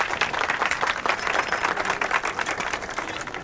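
A crowd claps steadily in a Hindi movie scene, a dense continuous patter of many hands at moderate level with no pause.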